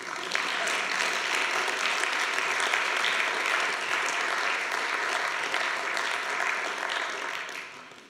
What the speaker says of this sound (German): Und da ist dann auch ein Beifall durchaus angebracht.